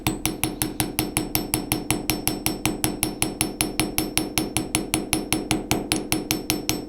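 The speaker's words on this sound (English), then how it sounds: "see where the riveting hammer is hitting the metal" A riveting hammer taps metal wire steadily and close up, about four strikes a second, each a sharp bright clink with a quick ring, alone for the whole stretch during jewelry bail making.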